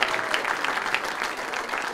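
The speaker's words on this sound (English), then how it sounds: "I want you to give the Lord a good welcome and a clap offering in this church" Church congregation clapping as a clap offering, a short burst of dense, steady applause from many hands filling the room.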